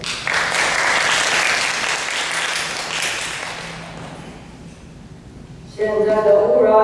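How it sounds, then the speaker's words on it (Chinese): An audience claps loudly for performers taking the stage for a short environmental drama, a dense burst of applause that fades after about four seconds before a voice begins speaking. "那我们掌声来欢迎他们"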